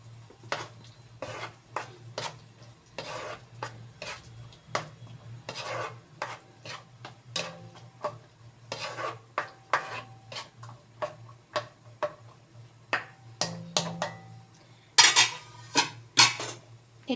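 A spoon stirs peas into tomato paste in a metal pan, scraping and clinking against the sides in a steady rhythm of short knocks and rubs, close and clear with no voices.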